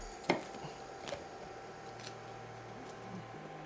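A knife cuts through soft cooked eggplant for a tomato and eggplant Indian curry, giving a few close, quiet slicing crunches with a sharp tap near the start, set against faint kitchen background noise.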